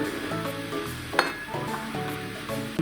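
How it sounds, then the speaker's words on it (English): Mustard seeds sizzle and crackle in about two tablespoons of hot oil heated to roughly 200–225 degrees, a steady frying hiss punctuated by a sharp metallic clink of a utensil against the pan partway through. "The oil is hot and ready. So I've added the mustard seed."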